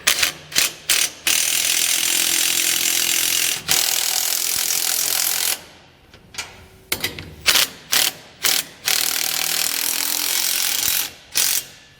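Socket ratchet clicking in repeated bursts while tightening the bolts of a Malone TopTier load bar kit on a utility trailer, each run of rapid pawl clicks broken by short pauses, close and clear with no talking.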